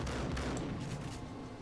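Rapid shotgun blasts from the Max Payne video game fire into a couch and floor in a quick, dense volley. The shots are loud, close and run together into a continuous roar.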